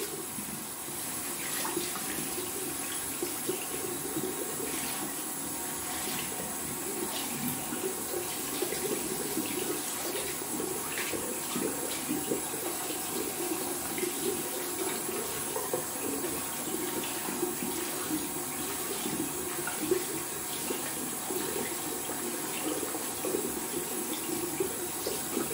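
Water runs steadily from a barbershop tap while a shaving brush is rinsed under it, a continuous close splashing rush with no talk.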